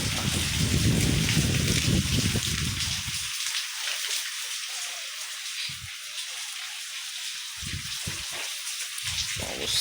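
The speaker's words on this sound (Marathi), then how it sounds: "पाऊस" Steady rain falls during the Maharashtra monsoon, a dense even hiss with heavier rumbling gusts early on and a few more later, wind moving the trees, continuous and fairly loud with no voices.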